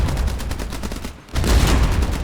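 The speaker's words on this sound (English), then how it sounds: "the machine guns will help you point fire" Rapid machine gun fire in the naval combat video game Age of Water, a loud continuous stream of shots that briefly pauses mid-clip and then resumes even louder.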